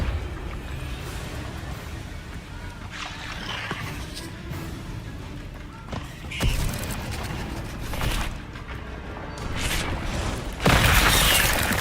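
Repeated Confringo and Depulso spell blasts in Hogwarts Legacy, loud booming bursts and whooshing impacts scattered over a dense, continuous roar of game effects.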